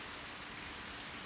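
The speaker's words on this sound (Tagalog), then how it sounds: "Parang bato ang ulan dito sa Japan." Steady heavy rain in Japan hisses continuously, a dense, even wash of drops beating down nearby with no voices.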